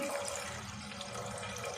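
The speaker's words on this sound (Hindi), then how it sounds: "दाल हमने अच्छे से धो ली।" Water running and splashing while moong dal lentils are washed in a kitchen, a steady close trickling and sloshing with no pauses.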